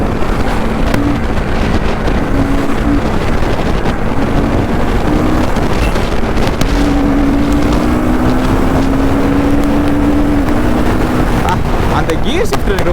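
A Royal Enfield Guerrilla 450 motorcycle cruises at city speeds through traffic, its engine note droning and rising slowly. Heavy wind buffeting on the microphone largely masks it, and the hum is continuous for the whole stretch.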